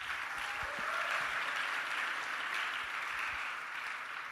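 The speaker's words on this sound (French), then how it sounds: "Acclamons Jésus." Church congregation applauding Jesus during a French-language worship service, steady sustained clapping from many hands filling the room at moderate distance, with no voices over it.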